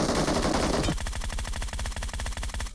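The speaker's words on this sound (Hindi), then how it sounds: "एक बार फायर करके देखता हूँ।" Rapid automatic gunfire from a battle royale video game, a dense rattling burst of shots that continues steadily for nearly three seconds with no voices over it.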